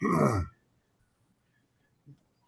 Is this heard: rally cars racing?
no